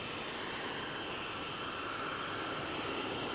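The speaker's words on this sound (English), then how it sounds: "The Comet went into service in 1952, surely one of the most beautiful aircraft ever built." A de Havilland Comet jet airliner with Rolls-Royce engines, displayed at an air show at RAF Fairford, gives off a steady, broad engine roar that holds at an even level throughout, with no talk over it.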